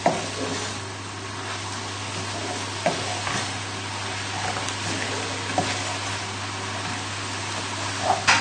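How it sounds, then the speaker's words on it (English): Tagliatelle pasta is stirred into a frying pan with bacon and mushrooms in a creamy sauce, giving a continuous loud sizzle with scattered scraping and clinking of the utensil, close up and without talking. "tip the pasta into the pan. And then just give it a good stir together."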